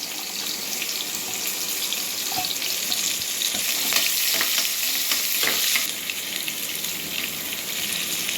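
Sliced onion and green chilies sautéing in oil with cloves, cardamom and bay leaf for a mocha pairu biriyani, a steady hissing sizzle with occasional stirring scrapes and taps of a utensil against the pan.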